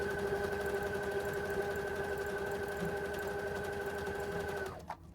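A Brother ES-2000 sewing machine runs a zigzag stitch in a steady, loud mechanical whir with a constant hum, close up, stopping abruptly near the end.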